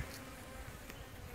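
Honeybee attendants buzz around a queen held in her cage, a faint, steady close-up drone with no talking.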